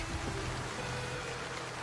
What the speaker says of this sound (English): I hate rainy days.